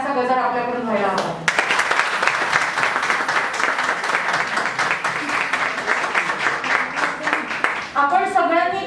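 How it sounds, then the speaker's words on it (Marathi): An audience at a breast cancer awareness event bursts into sustained, loud applause for the dignitaries, a speaker's voice heard just before and after the clapping. "निश्चितच एक सुंदर टाळ्यांचा गजर आपल्याकडून व्हायला हवा"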